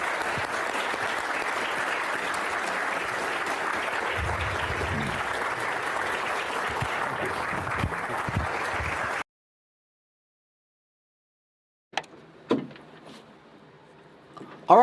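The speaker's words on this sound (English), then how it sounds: "Round of applause." Conference audience applause at the close of an interview segment honoring Thomas Lobach, steady moderate clapping that cuts off abruptly into silence, followed by a few faint knocks and handling sounds.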